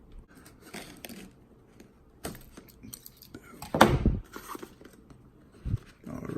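Cardboard packaging of an Anki Vector robot is cut open with scattered scraping, tearing and crunching sounds, one louder rip mid-way, close and irregular.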